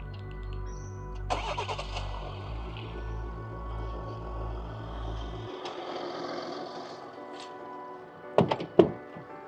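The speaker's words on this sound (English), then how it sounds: "I'm going to start the car with my remote start key fob" A Ford Ranger Super Duty starts by remote key fob: rhythmic low pulsing cranking for several seconds, then a steady idle, followed near the end by a couple of sharp close thunks, with no speech.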